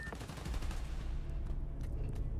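Rapid bursts of gunfire in the video game Spider-Man: Miles Morales, fairly faint and mixed with game noise, a rattling run of shots that thins out toward the end.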